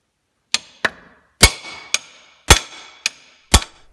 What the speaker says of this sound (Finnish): Me ollaan yritetty sitä hiukan naputtaa irti.